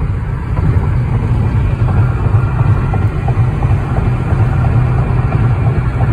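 A car cruising on the interstate gives a loud, steady low engine and road drone, close and continuous with no pauses.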